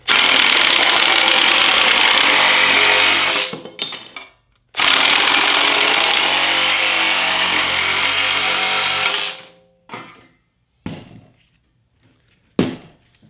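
A Dewalt shear attachment cuts through 18 gauge sheet metal with a loud, harsh, continuous buzzing rattle in two long bursts, followed by a few short, sharp bursts of the tool.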